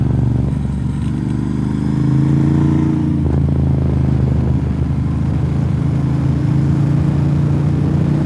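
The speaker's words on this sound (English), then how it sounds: "Those were the first two motorcycles I've seen today." Two motorcycle engines rumble steadily close by on NC 28 in Franklin, North Carolina, with a brief rise in pitch as one passes and a continuous low drone throughout.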